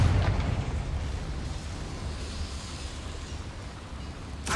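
A Confringo fire spell goes off in the video game Hogwarts Legacy with a booming burst at the start that fades into a low rumbling tail, followed by a soft pop at the end.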